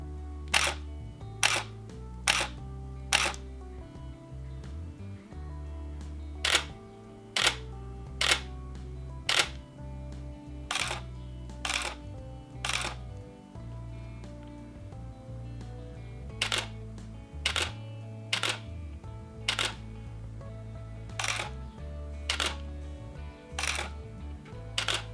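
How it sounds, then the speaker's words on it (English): Canon EOS 6D Mark II and original 6D shutters fire in normal and silent modes, giving a long series of crisp, close mechanical clicks in small bursts and singles with short pauses between, alone with no talking. "Both cameras have normal and silent shutter release."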